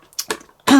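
A short, close throat-clearing cough from a woman at a papercraft table, a couple of rough bursts ending in a brief voiced grunt.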